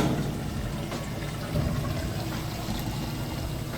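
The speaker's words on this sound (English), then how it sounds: "You can hear it running that drain nice and fast." An Amana washing machine draining between wash and rinse cycles: steady rushing water flowing, a constant churning wash of noise with a low mechanical hum underneath.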